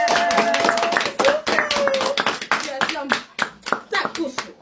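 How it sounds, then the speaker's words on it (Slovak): Audience clapping at a live dance performance, a burst of hand claps mixed with the chatter of voices, including a child's, and taps. "A zatleskamy!"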